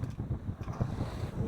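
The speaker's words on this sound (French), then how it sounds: "Le vent commence à monter" Wind rises over a sailboat at sea leaving the Gulf of Fos, heard as low, gusty buffeting against the microphone with a rhythmic rumble of hull and water underneath.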